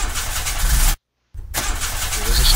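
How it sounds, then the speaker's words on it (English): A car engine being cranked in the horror video game Mermaid Swamp: loud churning starter and engine noise, a brief dead silence, then the cranking resumes, close and harsh. "Hold on, I'll try the engine."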